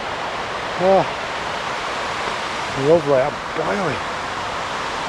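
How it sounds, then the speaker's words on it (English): Steady broadband rush of a Lake District waterfall fills the whole clip, with a few short spoken words and breaths rising briefly above it. "just stopped for a breather at these waterfalls"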